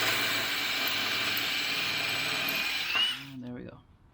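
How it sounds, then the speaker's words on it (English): A power drill bores quarter-inch holes during a Hellcat supercharger install on a 5.7 Hemi, a loud steady whirring grind running for about three seconds before it cuts off, followed by quieter handling noises. "Just gonna drill those out 1/4 inch."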